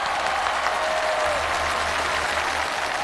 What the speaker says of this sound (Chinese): 我们再次把掌声送给诗雨